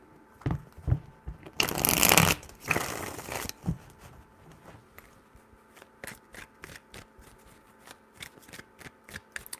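Tarot cards are shuffled by hand in two dense, crisp riffling bursts, followed by a run of lighter taps and flicks as the deck is squared, close and alone.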